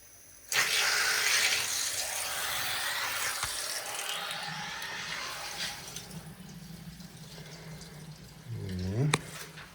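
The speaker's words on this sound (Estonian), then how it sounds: "laseme siis selle kraani lahti." A water tap is opened while a water filter is changed: a sudden loud rush of flowing water and mechanical hiss starts abruptly, holds steady and slowly eases, ending with a gurgling, rising tone and a sharp click.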